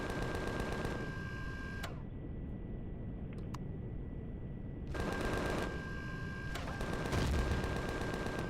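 Automatic weapon fire rattles in the space survival game Empyrion, fast mechanical bursts that stop, leave a quiet gap with a few clicks, then resume, steady and moderately loud.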